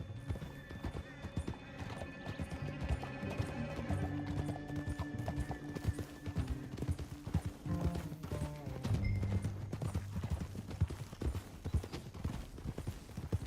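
Horse hooves clip-clop steadily in a Western open-world game while a horse whinnies, with music and brief speech mixed underneath at moderate level.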